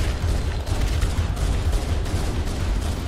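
Rapid gunfire and explosions in a Halo: Combat Evolved co-op battle on Legendary, a dense continuous barrage of shots with no clear gaps, loud and close.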